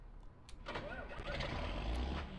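Engine of a 4050 tractor in a farming video game cranking and catching, then settling into a louder, steady running rumble close by, with no talk.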